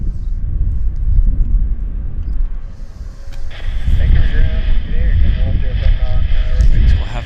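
A United Airlines airplane departs Vancouver International Airport with a steady, low engine rumble that swells partway through, heard under people talking.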